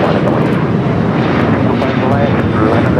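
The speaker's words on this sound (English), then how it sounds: "We got that Singapore 777 freighter going to be taking off more than likely on the 25 left." Jet engines of a Boeing 777 freighter roar at a large airport as it prepares to take off, a loud, steady distant rumble with wind buffeting, while someone talks over it.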